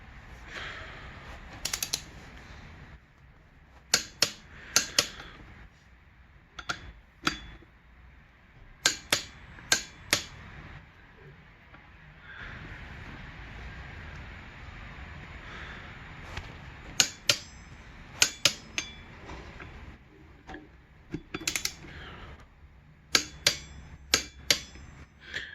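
Sharp metallic clicks and clanks of a wrench torquing sprocket bolts on a 2007 Kawasaki Ninja ZX6R, tightened in a star pattern; bursts of several close clicks recur irregularly over a quiet workshop background, with no talking.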